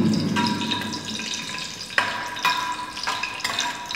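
Chopped onion fries in hot oil with bay leaves, cardamom and cloves for veg fried rice, giving a steady close sizzle with a few sharp crackles and stirring scrapes, and no voices.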